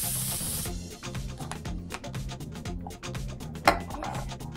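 Cooking spray hissing onto a baking sheet in a home kitchen, one steady burst of about half a second at the start, over constant background music.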